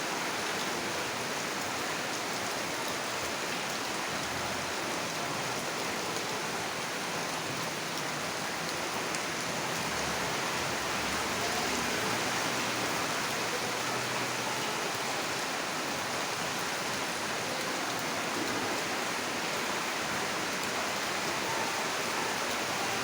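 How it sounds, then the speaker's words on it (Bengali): Heavy rain pouring down on a late-spring afternoon during the month of Jyoishtho, a dense, steady rushing hiss that holds at the same loud level throughout, with no voices. "দেখেন ঝুম ঝুম বৃষ্টি পড়তেছে।"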